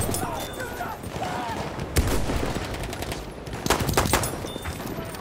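Machine gun fire in a war shooter game, heard as scattered sharp bursts popping through a constant roar of battlefield noise, with voices mixed into the din.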